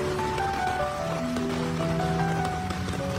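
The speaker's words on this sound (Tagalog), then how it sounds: "bumuhos na naman yung napakalakas na ulan dito" Heavy rain pours relentlessly onto the swollen, flooded Marikina River, a dense unbroken hiss of drops across the water with faint tonal sounds in the distance.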